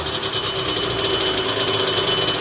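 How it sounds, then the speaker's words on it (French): A moped engine, its 17.5 mm carburetor freshly tuned, idles steadily and evenly, a close, loud and continuous motor drone with a fast pulsing rhythm and no voices. "Elle revient à son ralenti toute seule, le ralenti il est propre, on entend que le moteur il tourne vraiment sainement"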